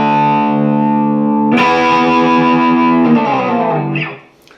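Distorted electric guitars playing a song, starting with a sustained chord, then a loud new strike joined by more layered guitar, ringing and fading out at the end, with no voices.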